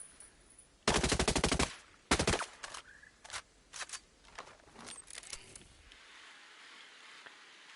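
An 805 Bren rifle in Ghost Recon Breakpoint fires two sharp automatic bursts followed by several scattered single shots, fairly close and clear, fading to quiet at the end.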